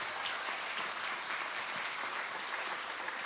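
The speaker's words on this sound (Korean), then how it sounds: "다시 한번 큰 박수" An audience at a Korean church's 100th anniversary lecture claps, a broad, continuous round of applause filling the room at an even level from start to finish.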